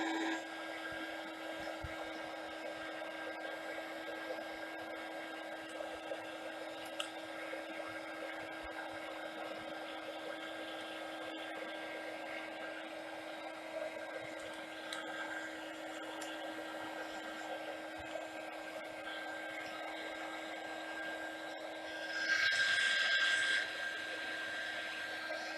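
A heat gun blows hot air onto the wax of a personalised candle, a steady whirring hiss with a low hum that runs unbroken for about 25 seconds and swells louder near the end.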